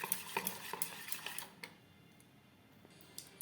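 Soaked-rice batter for chitoi pitha whisked in a bowl, a quick series of light clinking, tapping strokes that stop after about a second and a half, leaving quiet room noise with one faint click near the end.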